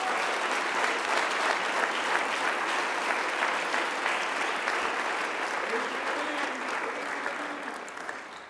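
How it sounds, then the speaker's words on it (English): Sustained applause from a seated audience honoring students and teachers at a school business meeting, steady and dense throughout before easing off slightly near the end. "if you will please give them a round of applause."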